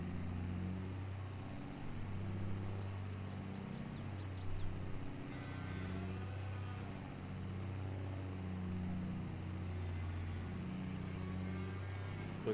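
A vintage mid-century John Deere tractor drives across a farm with cattle nearby, its engine giving a steady low rumble with a pulsing chug that stays constant and moderately distant.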